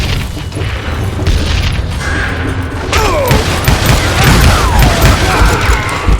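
Booming gunshots and gunfight clatter from the Western shooter game Call of Juarez: Gunslinger, loud and dense, with echoing blasts and mechanical clanks layered over a constant rumble.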